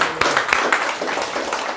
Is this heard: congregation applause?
yes